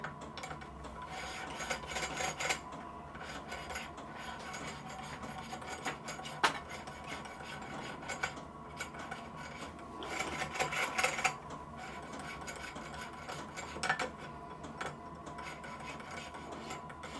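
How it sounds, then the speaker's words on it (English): A worn steam waggon safety valve seat, a poppet-type valve, is hand-ground with grinding paste, giving a steady close scraping and rasping rub with rhythmic strokes and brief louder bursts throughout. "valve grinding paste on the seat and just give it a try and see what it's like"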